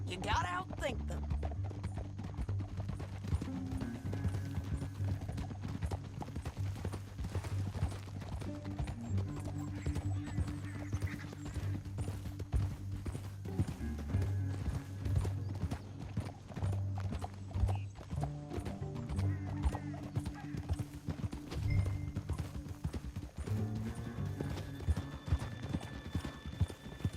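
Steady clip-clop of horses' hooves trotting in a continuous rhythm in the video game Red Dead Redemption 2, with an occasional whinny, under a constant low rumble and voices speaking.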